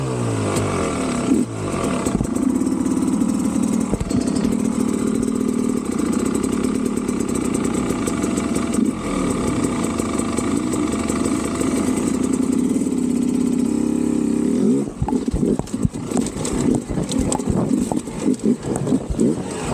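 Hard enduro dirt bike engine idling with a loud, steady throb, close by, with a brief rev near the end over dry, dusty ground; a voice is heard at times.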